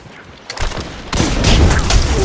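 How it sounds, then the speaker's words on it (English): Heavy hand cannon gunfire in Destiny 2's Iron Banner erupts after a quiet start, a few loud shots building into a sustained barrage of blasts. "I want to try hand cannon."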